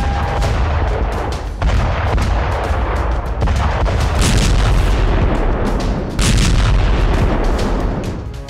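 Dense, continuous barrage of booming artillery and missile fire from the Russian military in the Ukraine war, loud and rumbling with overlapping blasts and no pauses throughout.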